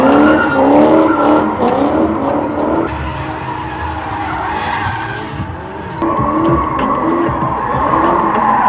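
A car drifting at the SOF Expo 2025 drift show in Samarkand screeches its tires in long, loud squeals, with the engine roaring underneath as the sound rises and shifts across several seconds.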